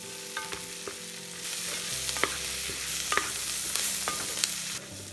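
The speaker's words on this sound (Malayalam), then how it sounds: "ഇനിയിപ്പോൾ നമ്മുടെ ക്യാപ്സിക്കം അരിഞ്ഞ് വെച്ചേക്കാൻ നമുക്ക് ഇതിനകത്തോട്ട് ഇട്ട് കൊടുക്കാം. എന്നിട്ട് നല്ലോണം ഒന്ന് നമുക്ക് ഇളക്കാം." Chopped capsicum is stirred into Gobi Manchurian gravy frying in a pan, with a steady sizzle and a few sharp spoon scrapes and clinks. Close and fairly quiet, with no voices.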